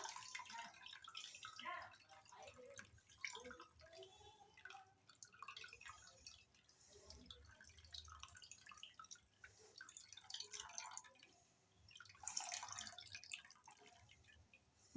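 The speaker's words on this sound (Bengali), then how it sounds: "ভালো করে নারকেলের দুধটা বের করে নেবো আস্তে আস্তে চেপে চেপে" Coconut milk squeezed slowly by hand from a cloth bundle of grated coconut, dripping and trickling into a bowl in soft irregular spurts, close and fairly quiet, with a louder splashing burst near the end.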